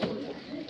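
Pigeons from a mixed collection of high-flyer birds coo softly and continuously in a brief close snatch, with a murmur of human voice mixed underneath.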